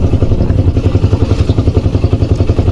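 Steady, loud chugging of a bhatbhati motor cart engine heard from on board while riding, a fast regular thumping pulse with rattling clatter running throughout.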